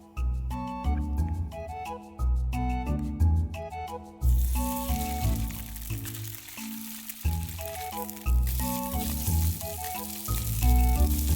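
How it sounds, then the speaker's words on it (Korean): A salmon tail sizzles steadily as it is lightly grilled in a pan, with the frying partly masked under prominent background music. "꼬리 부분을 살짝 굽고 양파, 마늘, 크림 소스 만들어서 뿌려줬더니 맛있게 잘 먹었어요."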